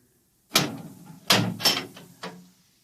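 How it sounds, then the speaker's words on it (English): Door handled indoors in a radio drama, three or four distinct knocks and bumps of a latch and swing, clear and isolated with silence between them. "Open the door."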